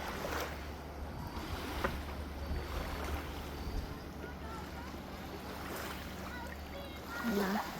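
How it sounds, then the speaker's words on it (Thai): Riverside ambience on the Rhine in Switzerland on a summer holiday, where families swim and boat. A steady wash of flowing water and wind fills the air, with faint splashes and distant voices mixed in throughout. "บรรยากาศริมแม่น้ำค่ะกับวันหยุด"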